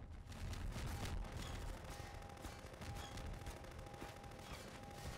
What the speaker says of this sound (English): Heavy ballistic gunfire.